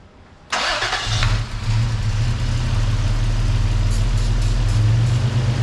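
Toyota 4Runner engine, recently repaired and being checked for a vacuum leak, cranks and catches after a half-second of quiet, then settles into a steady, loud, low idle that runs without talk.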